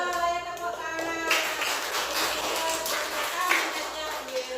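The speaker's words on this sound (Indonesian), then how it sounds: "ya tepuk tangan" A school class of students breaks into hand clapping after a classmate presents during a maths lesson. The clapping forms a soft, continuous patter following a brief voice, fairly faint and diffuse.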